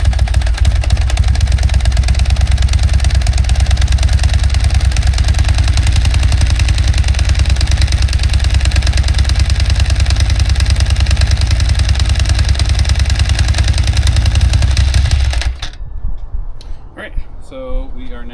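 Motorcycle engine idling on choke, loud and close with a steady rapid throbbing that runs unbroken for about fifteen seconds before cutting off to a quiet background.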